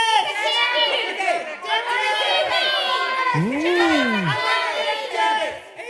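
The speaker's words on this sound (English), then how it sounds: "Start cheering now." A group of children cheers and shouts together in loud, excited bursts, with a swooping whistle-like tone in the middle.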